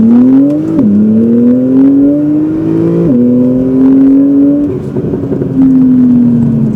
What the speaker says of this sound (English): that exhaust has a nice little tone with the performance cats on there